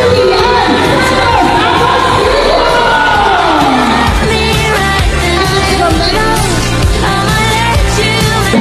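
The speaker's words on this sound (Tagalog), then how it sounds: "Hiyawan ang mga tao nang makita nang umakyat si Judean Santos sa stage" Loud, dense crowd shouting and cheering at a Sardines Saya event as Judy Ann Santos takes the stage, with high-pitched screams and whoops swelling throughout.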